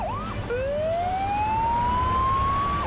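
A rising and falling electronic ambulance siren from a Playmobil cartoon wails in one long, loud sweep, starting with a short chirp and ending in a dip, heard alone over a steady background hum.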